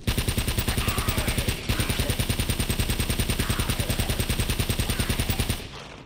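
An MP40 submachine gun fires in Uncharted: Drake's Fortune, a long, steady, rapid automatic burst at close range. It cuts off briefly once, then resumes and tails off at the end.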